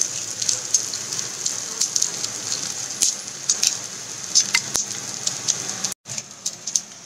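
Edible gond gum frying in hot oil for gond laddu, a loud, dense crackle and sizzle like heavy rain, with sharp pops throughout, a momentary break near the end, then steady frying again, with no talking.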